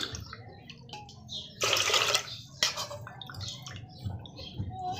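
Water splashes and pours into a cooking pot with moong dal in a loud burst lasting under a second, then a short second gush, with soft clinks and handling noises around it.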